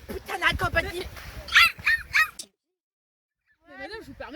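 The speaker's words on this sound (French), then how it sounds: "Oh le chien." Dog barking and yelping in short bursts mixed with loud overlapping human speech, then a pause of silence before more voices and yips resume.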